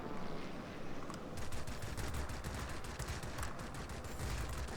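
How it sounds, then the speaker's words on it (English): Warplane guns in World of Warplanes firing a steady, rapid rattle of bursts over a dense engine and wind roar, fairly faint and continuous, with no talking. "throw out a few pot shots at the TU-12"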